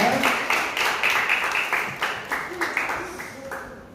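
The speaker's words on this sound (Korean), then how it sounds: "우리 하나님 영광의 박수 올려드리겠습니다" Congregation clapping during a children's Sunday worship service at a church, a steady burst of many hands fairly close with rhythmic pulses, fading slightly toward the end.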